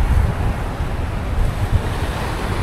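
Steady wind buffets the microphone over a low roar of surf at a beach on Camiguin Island on a sunny day, loud and continuous, with no voices.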